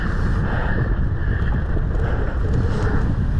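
Strong wind buffeting the microphone on a ski slope, a constant loud low roar with no break across the few seconds.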